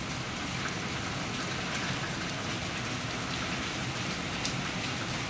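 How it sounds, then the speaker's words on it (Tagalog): Steady, dense rain pours down without a break, a constant hiss of drops hitting surfaces, with no voices. "Maghapon, magdamag, ulan dito."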